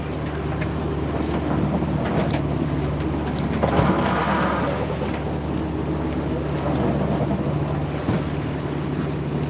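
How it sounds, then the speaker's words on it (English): A sailboat's sail flaps in strong wind on the open ocean, a continuous rushing roar of wind and water with a brief louder flutter midway, steady and close throughout. "Why is the sail flapping?"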